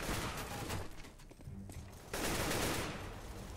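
AK rifle gunfire in CS:GO, sustained dense bursts filling the stretch, easing off midway and then returning loud and continuous, with no talk over it.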